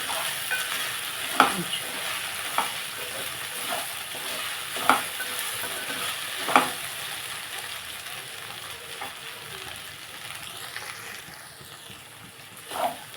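Okra curry being stirred in a frying pan, a steady sizzle broken by a handful of sharp spatula scrapes at irregular intervals, close and moderately loud, with no talking.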